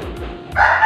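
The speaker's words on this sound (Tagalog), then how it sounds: "ayan, may manok." A brief chicken call, clucking then a louder squawk, close by, with low background noise.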